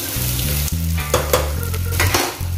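Onion with green and red chilli frying in a pressure cooker, a steady close sizzle with a few scraping stirs, no voices.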